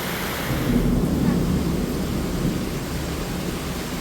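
Heavy rain falling steadily, a dense, close hiss and roar with a low rumbling undertone, continuous and without a break.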